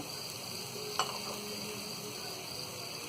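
Coriander, turmeric and red chili powders go into a hot pan of onion, ginger and garlic for kaju curry, giving a soft steady sizzle with one brief scrape of a spoon near the start.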